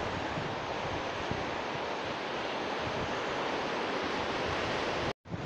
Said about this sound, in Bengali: কত বড় বড় ঢেউ দেখুন।